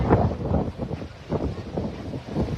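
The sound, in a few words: strong wind in Oroquieta City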